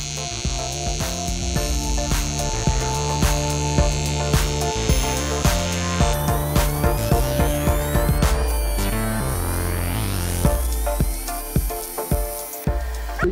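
An Eastwood TIG 200 welder fusing a crack in an old aluminum intake into a piece of sheet aluminum, giving a steady buzzing arc hum with a dense rattle of rapid clicks and pops throughout, loud and close, with no talk.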